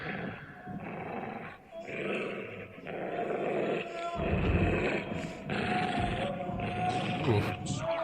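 Dog growling close by in the early morning darkness, rough low snarls rising and falling over several seconds, with some voice-like sounds mixed in.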